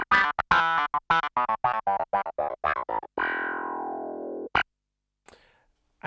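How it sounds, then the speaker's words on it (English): Clavinet voice on a Nord Piano 5 played through wah and a distorted amp simulator: a rapid run of short, funky plucked notes, then one held tone that cuts off, followed by faint clicks. "so you've got the wah going through the distorted sound of the amp"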